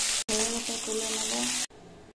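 Cumin seeds sizzle in hot oil in a home kitchen, a steady bright hiss lasting about a second and a half before it cuts off, with a low voice faintly beneath.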